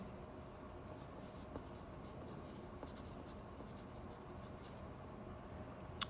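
Pen or pencil writing on a working drawing for a bench build, faint continuous scratching strokes with occasional light taps, close and quiet with no talking.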